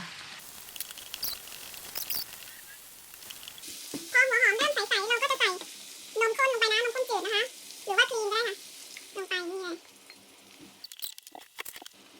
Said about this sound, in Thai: พอเนยละลายดีแล้วเราก็จะใส่หัวหอมลงไปค่ะ